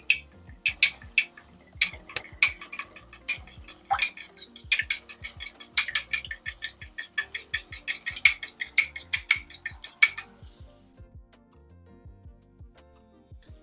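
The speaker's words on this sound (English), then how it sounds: "now I'm going to take one egg that I'm going to lightly beat" A single egg lightly beaten with a utensil in a bowl for stewed salmon: rapid, steady clinking taps for about ten seconds, close and clear, then falling quiet.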